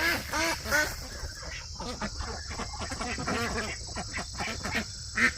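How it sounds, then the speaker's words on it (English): Several ducks quack close by in a busy, overlapping chorus of nasal calls, with a faint high insect-like hum in the background. "Ducks."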